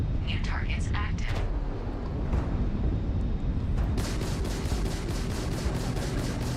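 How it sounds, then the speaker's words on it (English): Rapid laser weapons fire from a ship in Starfield, a fast repeating train of bright zaps in the second half over a dense, busy game soundscape, with earlier scattered blasts. "Lasers fire faster on this ship."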